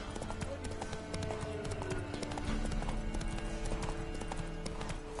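A horse's hooves clip-clop in a steady, rapid rhythm in the video game The Witcher 3, trotting close by over game ambience with no talk.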